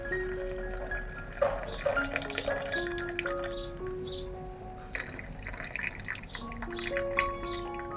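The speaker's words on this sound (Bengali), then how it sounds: "এখন হচ্ছে চায়ের লিকারটা হচ্ছে আমি এই দুধ চিনির মধ্যে ঢেলে দিব" Tea liquor being poured into cups of milk and sugar, with light splashing, drips and trickling fill sounds, close and soft, amid faint background tones.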